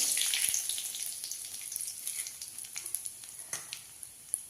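Mustard and fenugreek seeds splutter in hot coconut oil while tempering for Kerala kalan, a dense crackling sizzle that starts loud and eases off, leaving scattered sharp pops close by.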